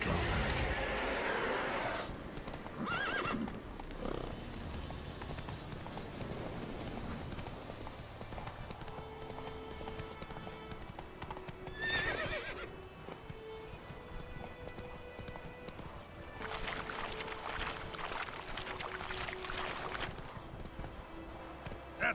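Roach the horse galloping in The Witcher 3: Wild Hunt, hoofbeats clip-clopping under a steady bed of game music and ambience, with a brief whinny and a surge of louder effects partway through.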